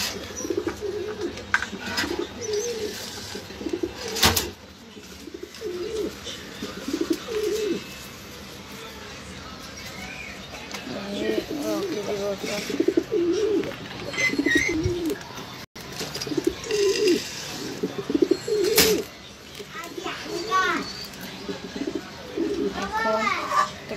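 Pigeons coo in repeated low bursts during feeding on a mix of chickpeas, wheat and peas, mixed with children's voices and someone speaking, plus occasional sharp clatters.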